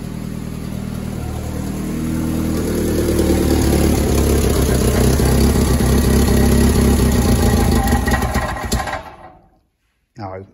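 A 1988 Volkswagen Polo MK2 engine runs steadily with the choke on, a loud continuous rumble that holds for several seconds, then cuts out abruptly and briefly catches again at the end.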